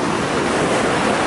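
Ocean surf at Myrtle Beach makes a continuous loud wash of breaking waves mixed with wind buffeting the microphone, close and unbroken.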